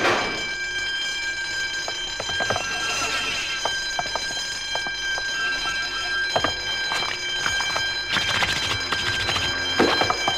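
An electric alarm bell rings loudly and steadily for a prison escape in a French animated Tintin film, a sustained metallic ringing with scattered clanks and bangs over it.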